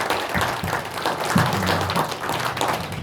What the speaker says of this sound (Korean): 여러분 감사의 박수 한번.